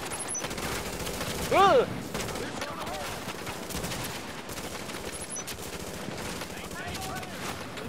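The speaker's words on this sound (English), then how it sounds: "Open fire. Maintain pressure." Gunfire from a firefight in the video game The Division, dense and continuous bursts filling the scene while voices shout and talk over it.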